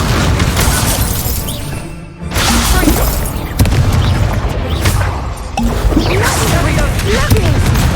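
An Incendio fire spell cast during a Hogwarts Legacy duel brings loud booming blasts and crashing impacts in quick succession, with a voice calling out amid the fight.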